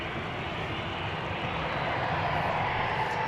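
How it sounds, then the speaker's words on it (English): A KLM Boeing 737-800 jet roars steadily on its takeoff run at Amsterdam Schiphol's Polderbaan, a loud, continuous broadband engine rush holding at near-constant level throughout with no voices. "Taking off right now, going to Bergen, KLM flight 1185, 737-800."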